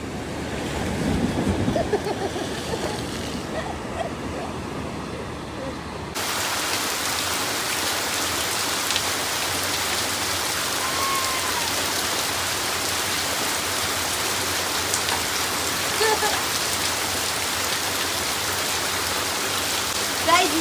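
Heavy rain pours down at the seaside in a dense, continuous roar, with waves washing in the background and faint talk early on.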